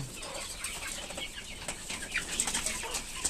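Desi hill chickens, about two and a half months old, move about in a large cage, with soft clucks, rustling and brief wing flaps, faint and close, with no talk.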